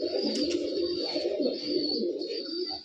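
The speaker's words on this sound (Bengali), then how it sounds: "তিন পেয়ার কালদম কবুতর" Kaldom pigeons cooing, low rolling coos repeating close by over a steady high-pitched background hum.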